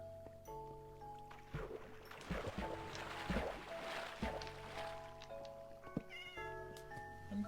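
Cat meows from the Minecraft video game, repeated several times over a steady background of flowing water near a waterfall, with no talking.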